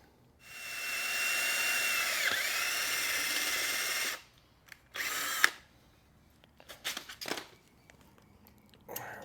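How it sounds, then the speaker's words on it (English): A power drill bores into an assembly part, a steady, close, high whine for about four seconds that cuts off abruptly, followed by scattered clicks and handling clatter. "We'll drill that in."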